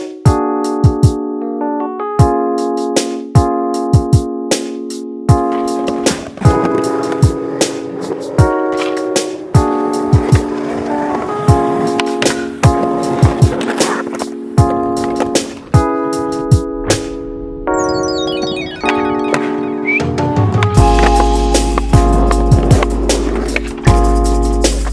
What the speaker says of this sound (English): We have the board with the loose trucks.